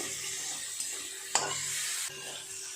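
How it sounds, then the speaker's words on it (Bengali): Prawns frying in hot oil for an ol-chingri (elephant foot yam with prawn) dish, giving a steady close hiss and sizzle with a couple of sharp clinks of utensil stirring, and no talking. "চিংড়ি মাছগুলো ভেজে নেব"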